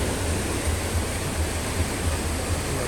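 Rain-swollen stream water from Bomburu Ella waterfall rushes steadily nearby, a broad continuous hiss with low churning rumble and no voices.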